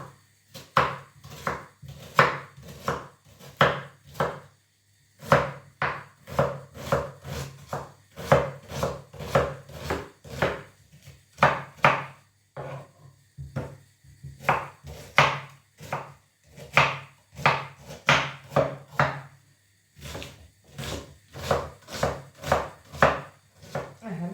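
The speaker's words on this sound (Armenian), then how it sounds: "Քանի մեր յուղը չի հալվել, մենք կտրտենք սոխը, որ պատրաստ լինի։" A knife chops onion on a cutting board in a long run of crisp, rhythmic strikes, close and clear, with short pauses between bursts and no talking.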